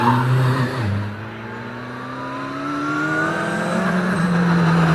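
A race car climbs through the gears at the Prescott hillclimb in the British Championship, its engine note rising loud and strong with a brief dip at a gearchange, heard alone without talk.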